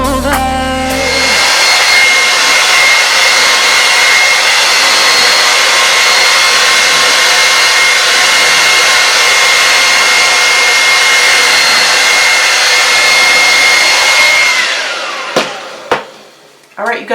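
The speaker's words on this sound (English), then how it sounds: "so I'm finished blow drying my hair" A Dyson hair dryer blows steadily and loudly on hair for about fourteen seconds, a constant close whoosh with a faint whine, then cuts off and winds down into a few handling knocks.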